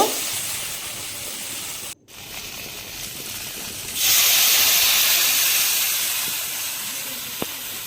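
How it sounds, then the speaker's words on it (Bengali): Tamarind water sizzles in a pan: a steady hiss breaks off briefly, then surges louder and slowly settles into a continuous bubbling hiss. "এবার এটাকে দু মিনিটের জন্য ফুটতে দিব"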